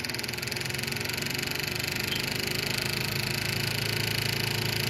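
A car engine fitted with a custom-curved GM HEI distributor runs at steady, elevated revs, a continuous loud mechanical drone with a rising fan-like whine that holds level throughout, close by and with no voices.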